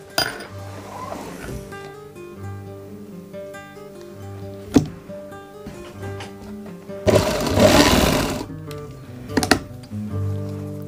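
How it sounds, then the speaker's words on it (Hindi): A sewing machine running basting stitches around a kurti neckline: a low mechanical hum with sharp metallic clinks, and a louder burst of stitching partway through. "इस तरह सारी आप कच्ची सिलाई लगाएंगे।"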